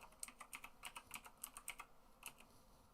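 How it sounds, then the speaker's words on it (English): Quick, uneven clatter of keys being typed on a computer keyboard, a steady run of light clicks heard up close with no talking. "I just hear you typing"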